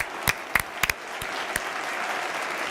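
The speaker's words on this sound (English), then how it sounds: "round of applause for Gavi." Stadium crowd applauding as FC Barcelona players Dani Olmo and Gavi are substituted during a Champions League match against Brest, with a steady roar of distant applause broken by a few sharp, close thumps.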